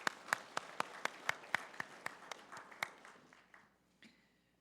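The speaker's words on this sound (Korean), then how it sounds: "영광의 박수 올려드리겠습니다." Applause from a church congregation at a Sunday worship service after a Zion choir's hymn, moderately faint sparse claps in a steady rhythm that thin out and fade, with a few stray claps near the end.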